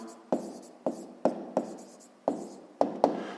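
Pen strokes on paper while working a sixth-grade maths exercise, seven or eight sharp tapping scratches at an uneven pace, close and clear, with no talk.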